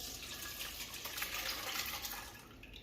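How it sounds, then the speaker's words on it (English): Liquid from a slow cooker is strained straight into a bowl, giving a soft continuous splashing and trickling pour that is fairly quiet and heard alone. "I'm just going to strain this liquid straight into a bowl."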